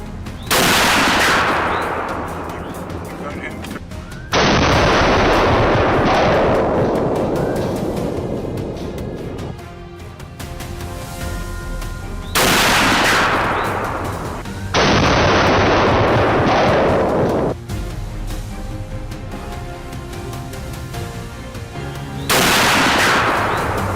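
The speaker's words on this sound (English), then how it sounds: "A clean, crisp gunshot echoed." Powerful gunshots during a wild boar hunt, several loud booming blasts each trailing off into long rolling echoes, spaced several seconds apart with no speech.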